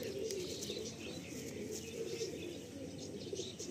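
Pigeons in a loft of pure Kaldam birds murmur and coo in a steady low chorus, with occasional faint chirps from nearby birds. The sound is continuous and moderately distant and carries no speech.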